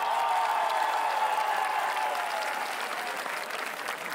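A concert audience in Ascoli Piceno, Italy, applauds an orchestra live, with dense sustained clapping from a large crowd and a faint tone held underneath that tapers slightly toward the end.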